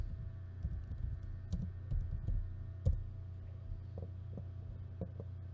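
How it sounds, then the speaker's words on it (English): Soft, irregular keystrokes on a computer keyboard, scattered clicks over several seconds against a low steady hum, fairly faint and close. "I'm just going to type in Fenway Park."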